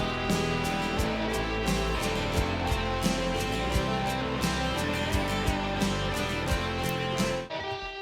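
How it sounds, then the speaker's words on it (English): Guitar solo played through a Logic guitar amp with spring reverb, dense sustained electric lead lines over a full mix with steady drum hits, loud and continuous until a brief dip near the end. "I've sent it to a guitar amp with spring reverb on it."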